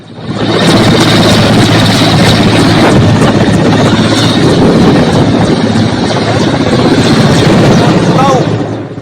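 Indian military helicopter carrying Garud commandos on a cyclone rescue mission to Sri Lanka, its loud rotor and engine drone continuous and close throughout.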